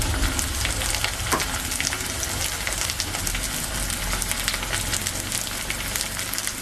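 Chopped onion fries in hot oil in a pan, giving a steady, dense sizzle that stays level and close throughout with no voices.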